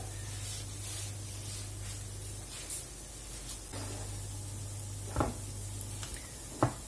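Protein patties finish cooking in a pan, giving a quiet, steady frying hiss with a low background hum and a few brief clinks of a utensil near the end; no one speaks.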